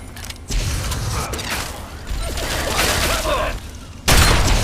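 Gunfire in the video game Fallout 3 rattles out as dense bursts with mechanical clanks and creaks, loud and close, ending in a sharper, heavier blast.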